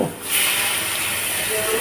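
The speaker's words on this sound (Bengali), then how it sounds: "একটু পানি দিয়ে দিব" Water poured into a pan of frying onions with fish spices bursts into a loud, steady hiss and sizzle that holds for nearly two seconds after a brief quieter start.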